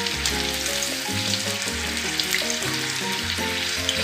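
Baby potatoes frying in hot oil until golden brown for spicy barule, an Aligarh exhibition street snack, with a steady close sizzle and hiss running unbroken beneath a loud musical backing.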